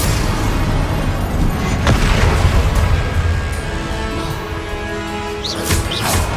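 Spell blasts in the Hogwarts Legacy video game: dense, loud booming impacts and crashing bursts that run continuously, with a sharp hit near the start and bright zaps toward the end.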